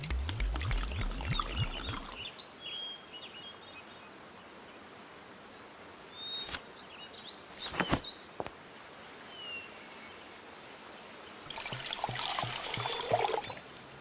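Water pours into a vessel in the Mata Hari adventure game, a trickling stream set against a faint ambient bed of birds and frogs, bracketed by louder bursts at the start and end.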